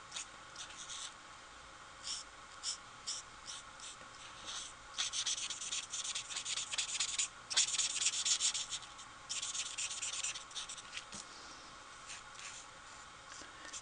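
Colouring in a stamped card image for a Father's Day card, pen or pencil strokes rasp across paper in quick bursts of scratchy rubbing, close and quiet, pausing between passes.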